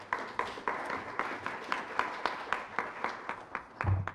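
Quiet, evenly spaced clapping at a Korean National Assembly policy forum, a steady beat of roughly three claps per second from a small audience, ending with a soft low thump.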